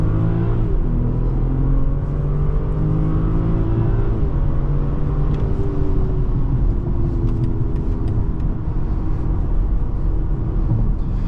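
A 2024 BMW X4 M40i pulls away from a full stop under hard acceleration, its engine rumble steady and loud from inside the cabin and climbing in pitch through the gears, with no talk.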